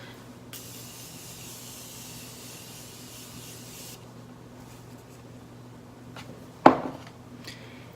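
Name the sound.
setting spray being sprayed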